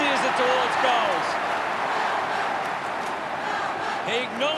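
A stadium crowd at an AFL football match between Geelong and Melbourne roars steadily in the background, a broad sustained cheer with scattered shouts, while a commentator talks over it.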